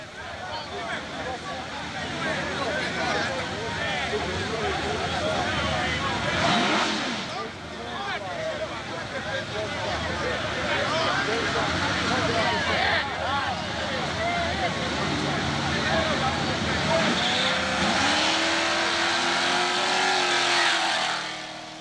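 Drag race cars at Southeastern Dragway, including a Chevelle, roar down the strip with sustained loud engine noise and a rising pass near the end, while an announcer talks over the racing.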